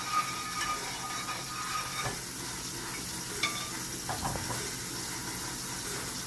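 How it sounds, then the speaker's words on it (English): A spoon stirs a little milk into a seasoned mixture, giving soft scraping and clinking strokes at an uneven pace over a faint hiss, fairly quiet and with no talk. "we're just going to stir this and incorporate it"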